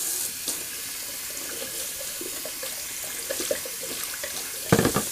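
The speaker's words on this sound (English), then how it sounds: "I'm running the water there," A tap runs steadily as a 30mm shaving brush knot is rinsed under it, the stream splashing with brief louder spatters near the end.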